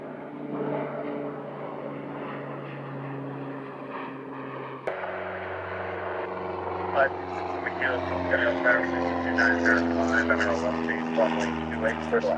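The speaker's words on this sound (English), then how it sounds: "This is a Citation Latitude for exec jet." A Cessna Citation Latitude business jet at Centennial Airport on a sunny morning, its engines a steady broadband roar that shifts and swells partway through, with speech heard over it.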